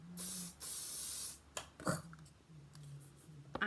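Hairspray hisses from an aerosol can in two close, steady bursts onto freshly washed hair, followed by quieter handling clicks and rustles.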